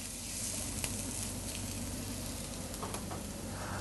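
Beef short ribs going back into a hot braising pot give a loud, steady sizzle that fills the whole stretch, with a couple of faint clinks on top.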